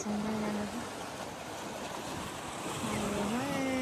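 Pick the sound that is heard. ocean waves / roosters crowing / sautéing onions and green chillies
ocean waves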